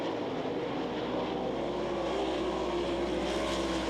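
410 sprint cars racing nose to tail down the back stretch at a dirt oval raceway, a steady loud engine roar heard from a distance without a break.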